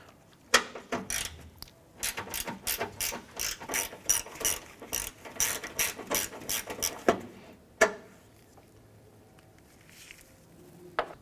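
A ratchet clicks rapidly in repeated bursts while backing out a 10mm bolt on the washer fluid reservoir of a 1994-2004 Chevy S10, close and fairly loud, then stops with a final clunk.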